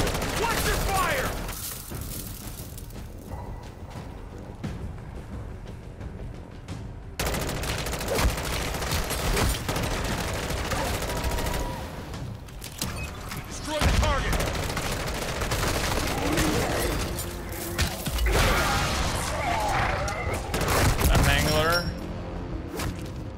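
Rapid bursts of automatic gunfire from a sentry gun in Call of Duty Modern Warfare 3 Zombies, loud and repeated in long stretches with brief gaps, mixed with other game booms and sharp clatters.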